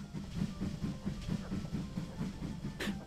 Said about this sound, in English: Oh, we passed by the train again.